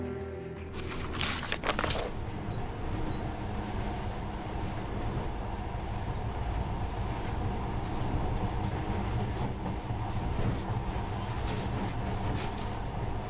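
A monorail train in the video game Metro Last Light Redux runs with a steady, loud mechanical rumble and hum that continues without a break, with a brief rattling clatter at the start.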